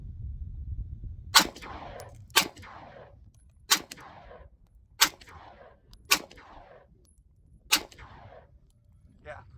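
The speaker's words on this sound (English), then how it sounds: "Let's go ahead and pop off some rounds at some of that trash out there." Six sharp pistol shots from a Sar K12 Sport fired outdoors at distant trash targets, each a loud crack with a short echoing tail, spaced about a second or more apart over quiet background.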